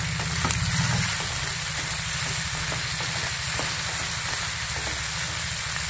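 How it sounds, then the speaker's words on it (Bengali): Chopped onion sizzles and fries in a pan for a Bengali prawn curry, with a steady close hiss and faint scraping strokes as it is stirred. "পেঁয়াজ কুচি দেওয়ার পরে একটু নাড়াচাড়া করে দিয়ে দেবো টমেটো কুচি"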